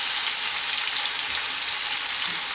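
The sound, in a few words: potatoes frying in a pan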